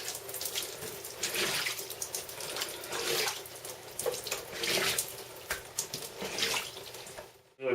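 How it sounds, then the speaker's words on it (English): Water running and gurgling as a shower drains, a steady splashing flow with surges, fairly faint and alone, ending abruptly. "And this is how we drain our shower every day."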